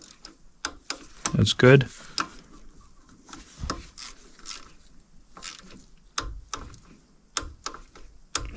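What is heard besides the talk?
torque wrench clicking while tightening bolts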